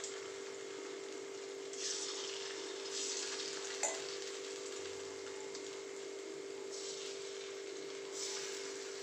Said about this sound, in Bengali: আমি এবার পকোড়াগুলো ভেজে নেব। তেলটা ভালোই গরম হয়ে গেছে